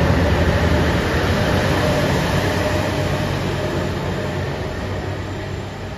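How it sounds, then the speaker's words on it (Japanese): The red Anpanman train, JR Shikoku limited express Nanpu No. 6, runs at Awa-Ikeda Station with a loud, steady rolling rumble of wheels and rails that slowly eases as it goes. "阿波池田駅9時12分発赤いアンパンマン列車特急南風6号"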